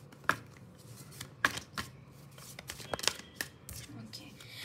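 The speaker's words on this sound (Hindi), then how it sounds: "but I'll shuffle it one more time" Tarot cards shuffled by hand in a quiet room, a series of soft riffling snaps and papery flicks coming in irregular bursts, close up and fairly faint.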